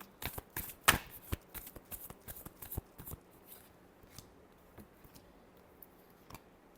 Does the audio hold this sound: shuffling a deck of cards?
yes